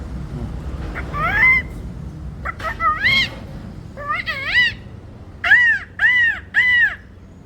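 A man, a confectioner, imitates a parrot with loud, shrill squawking calls, delivered in short bursts that grow into three strong, evenly spaced cries over a quiet background.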